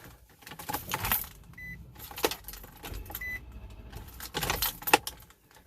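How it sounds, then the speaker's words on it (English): An Infiniti G35 coupe's starter cranks in bursts, a whirring grind with jangly metallic rattling that stops and starts again, close and fairly loud, no voices during it. "Sounds like the starter's going out or something."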